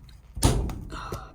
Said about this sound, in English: Now we just need to remove all of these Christmas tree clips